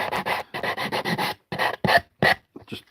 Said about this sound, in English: Just sanding up another spoon.